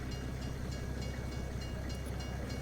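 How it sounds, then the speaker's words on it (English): A train rolls past in a wilderness homesteading video game, a steady dense rumble with faint clatter that holds evenly throughout, loud and alone. "Let this train go by."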